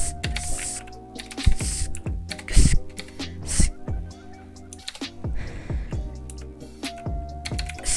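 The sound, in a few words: typing on a computer keyboard to rename a folder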